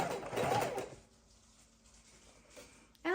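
A sewing machine stitching fabric scraps for a junk journal, a brief close mechanical whir that fades into quiet room tone, with a short clatter at the end.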